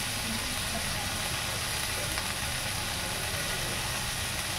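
Drumstick pieces (sojne data) fry in a pan with a constant, even hiss of hot oil that stays at a steady moderate level, close by and uninterrupted.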